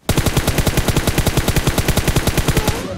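An M4 assault rifle in PUBG Mobile fires a loud, sustained burst of rapid, evenly spaced automatic shots, close and alone for about three seconds.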